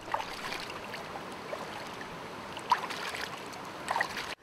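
Water of a valley stream flows in a soft, steady rush, with quiet splashes and trickles rising briefly here and there against the constant low wash.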